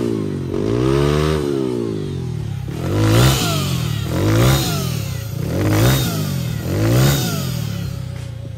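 A Honda Vario motorcycle fitted with an electric turbo revs in four or five strong, rising bursts, each swelling and falling back between throttle blips, loud and close with no talking.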